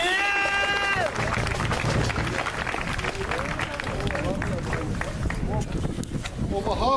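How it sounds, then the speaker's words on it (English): A crowd at a republican parade in Ardoyne applauds in a loud, dense, steady wash of clapping and murmur that runs for several seconds after a brief tone at the start. "I'd like a run of applause for the corner"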